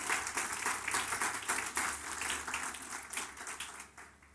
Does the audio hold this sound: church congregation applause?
yes